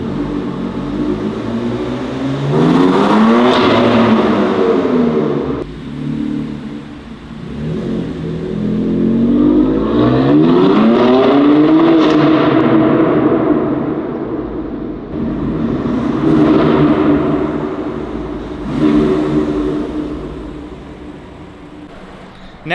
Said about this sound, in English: I wanted a second go at driving the M3 to be redeemed for driving like James May.